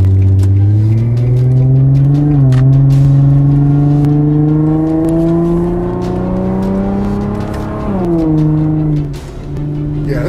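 A 2006 Infiniti FX35 AWD cruising, its engine holding a steady drone that rises slowly in pitch, with a shift-like dip near the middle and another near the end, loud and close throughout with no talk.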